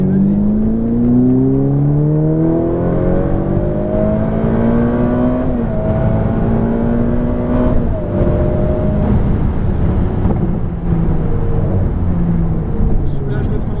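A Ferrari F8 Tributo's engine pulls hard on a race track, its rising whine climbing steadily through the rev range, loud and close, with a brief dip at a gear change and an instructor talking over it.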